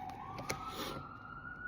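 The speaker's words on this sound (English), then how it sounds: "hear the ambulance" An ambulance siren wails in the distance, a single high tone sliding slowly upward, faint beneath soft background hiss.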